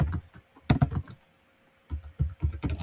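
Clicky keystrokes on a computer keyboard in two quick bursts separated by a short pause, close and moderately loud, with no talk.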